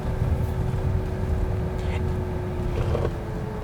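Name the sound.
BYD Dolphin electric car pedestrian warning system hum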